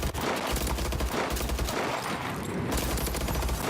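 Gunfire in the shooter video game Call of Duty: Advanced Warfare comes as dense, rapid bursts of shots with brief gaps, loud and continuous over a rumbling low end.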